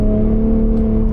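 A Gen 3 Ford Raptor pickup truck engine drones loudly with a steady low exhaust rumble in Baja mode, holding a deep even tone throughout the short clip.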